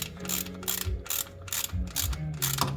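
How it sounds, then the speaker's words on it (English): Ratchet wrench clicking as it tightens a plug on a Chevy Captiva 2.4L transmission, close and loud, in repeated bursts of rapid pawl clicks separated by short pauses. "let's switch our wrench. And let's go ahead and crank it on in there."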